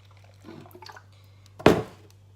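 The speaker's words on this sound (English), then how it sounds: "pour some water in there" Water is poured into a blender in one short splashing rush after a few faint clinks, over a low steady hum.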